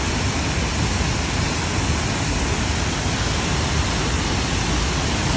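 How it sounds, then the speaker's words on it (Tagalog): Steady, roaring rush of a waterfall pouring down continuously in a forest, a dense broadband wash with no pauses and no voices. "Tsaka maingay yung pagbagsak ng tubig."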